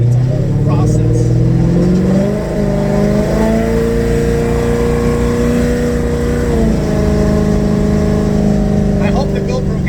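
A Coyote-swapped Ford Fairmont drag car that runs 8.7-second quarter miles accelerates hard with its tires spinning. A loud, close V8 roar holds throughout, its pitch climbing, dipping briefly and climbing again.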